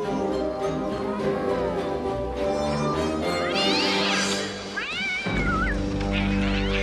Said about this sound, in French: le bébé pingouin qui tue un chat